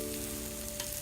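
Hamburgers sizzling on a Lodge Sportsman cast iron grill, a brief, close, steady frying hiss with a low hum underneath.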